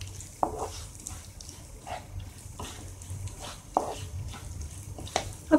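Moong dal being dry-roasted and stirred in a pan over a medium flame, with a soft steady scraping hiss broken by several sharp clinks of the spoon against the pan, close and fairly quiet, with no talking.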